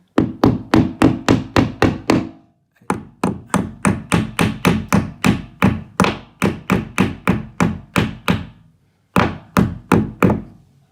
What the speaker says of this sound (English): So just tap these in.